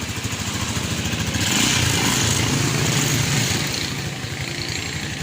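A Rusi 175 motorcycle engine runs steadily after starting, a loud, close, continuous rumble with a slight rise in intensity midway and no talking.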